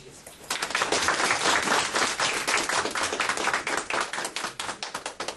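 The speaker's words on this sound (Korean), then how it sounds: "뜨거운 박수로 모시겠습니다." Dense, lively audience clapping rises sharply and continues steadily to the end, welcoming an award-winning Korean poet to a school lecture.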